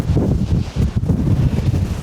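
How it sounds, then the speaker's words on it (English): Strong gusty wind of around 60 mph sweeps over a rocky cliff edge, a loud, continuous roar buffeting the microphone with uneven surges and no break. "So this has seriously been some of the most insane wind ever."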